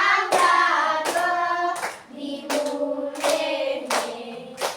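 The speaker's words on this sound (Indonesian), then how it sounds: "Ya, tepuk tangan." A class clapping hands in applause, a dense, close run of claps that carries on steadily, with short accented surges and a louder tonal sound mixed through.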